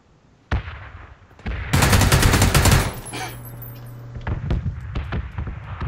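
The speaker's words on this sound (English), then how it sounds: "I think he's shooting from the second story." Automatic gunfire in PlayerUnknown's Battlegrounds: a sharp single shot, then a dense rapid burst of rounds, followed by scattered nearby shots and thuds, loud and close.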